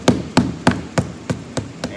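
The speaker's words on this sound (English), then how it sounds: "So all I have is this nice, flat, skinny scraper and my rubber hammer." A rubber hammer taps a flat, skinny scraper to pry up a trim ring during ferrocement prep, seven evenly spaced sharp knocks that grow slightly softer.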